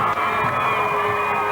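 A big crowd roars and cheers continuously at the Adelaide Crows victory parade, a dense sustained wall of voices with a whistle-like tone riding on top.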